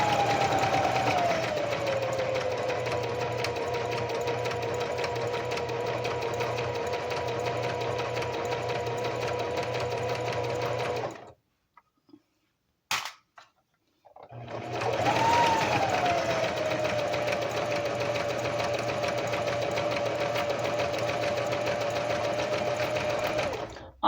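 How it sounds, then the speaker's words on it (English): A sewing machine runs steadily through fabric in long continuous stitching bursts, breaking off briefly near the middle with a few faint clicks before resuming, with no voices. "when you get used to sewing like this"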